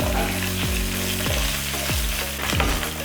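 Onions fry in a pan and are stirred, giving a loud, close, continuous sizzle broken by regular scraping strokes about every half second, with no voices.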